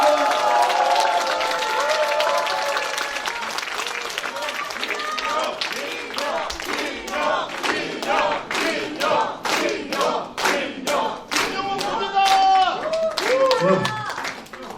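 A crowd at a Democratic Party members' gathering in Incheon greets a speaker with shouts and cheers, then breaks into loud, rhythmic unison clapping that keeps a steady beat to the end.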